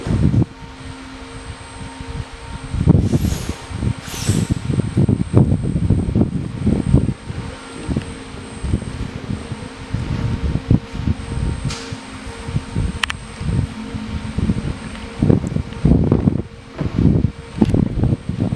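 Steady wind blowing across an outdoor drone launch site, a continuous broadband rush with occasional louder gusts and thumps of wind on the microphone, and faint mechanical tones in the background.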